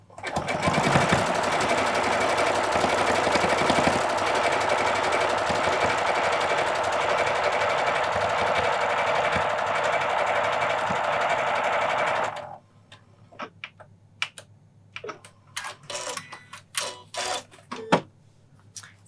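A Janome sewing machine with an edge guide foot stitches in one continuous, close, rapid mechanical whir for about twelve seconds, then stops, leaving scattered clicks and fabric handling sounds.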